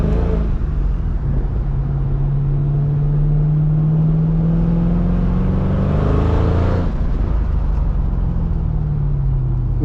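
A loud engine of a 2005 Mercedes-Benz CL55 AMG (C215), about 500 horsepower, revs up, its pitch climbing steadily before dropping off, then climbing again, close and sustained with no talking.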